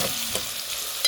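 Tomatoes sautéing in a pan for ginisang upo with bagoong, a soft steady sizzle with light stirring scrapes, close and fairly quiet throughout.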